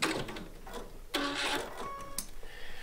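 A sewing machine stitches in short bursts while sewing quilt pieces, with brief mechanical whirs and clicks close by and quiet pauses between.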